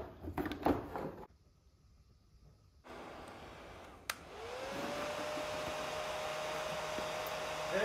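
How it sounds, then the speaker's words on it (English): A salon hair dryer runs as a steady, airy whoosh that starts up partway through and holds at a constant level, after an earlier stretch of brief clatter and near silence. "I guess I gotta put myself under the dryer myself"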